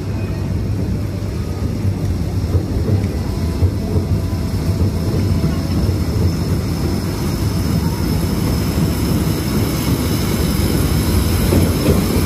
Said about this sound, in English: I'm going to let the electric railway go by uninterrupted by me talking